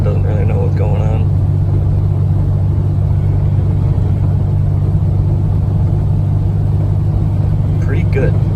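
Car with a swapped 3.9L engine cruising at about 45 mph, held near 2000 rpm: a loud, steady low drone and road rumble from inside the cabin, continuous throughout, with faint voices in places.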